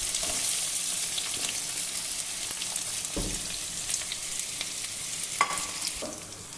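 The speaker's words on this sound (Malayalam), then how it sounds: "ഇടത്തര സബോള നമുക്ക് ഇതിനകത്തേക്ക് ഇട്ട് വഴറ്റണം" Three medium onions sizzle and fry in a pan of hot oil with popped seeds, a continuous crackling hiss broken by a few scraping stirs.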